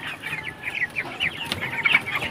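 Young broiler chickens, around 19 days old, on a small farm of about 100 birds, cluck and chirp together in a busy, close-up chorus of overlapping calls.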